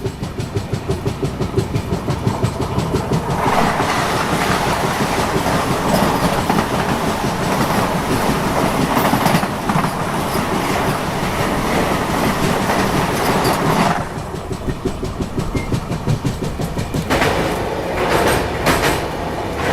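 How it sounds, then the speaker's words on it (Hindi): The Varanasi–New Delhi Vande Bharat Express passes close alongside at night, a loud sustained rush of wheels and rapid clickety-clack over the rails, with the roar dropping briefly near the end before picking up again. "अभी शताब्दी क्रॉस हुई और अब बगल से क्रॉस हो रही है वाराणसी नई दिल्ली वंदे भारत एक्सप्रेस।"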